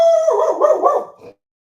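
A dog gives a single drawn-out, howling bark that wavers in pitch for about a second, fairly loud and close, then breaks off into silence.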